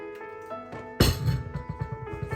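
A lid set onto a pot of jollof rice cooked with vegetables, one sharp metallic clink followed by ringing and a few lighter rattling taps as it settles, close by.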